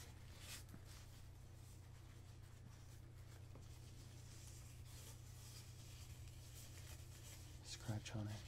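Dry, papery crinkling and rustling as a paper streamer is crushed, steady and close, with a low hum underneath.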